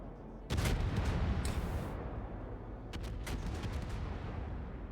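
Naval gunfire in the World of Warships video game, with a sudden loud salvo of heavy booms followed by a sustained rumbling roar and further sharp bursts of shots.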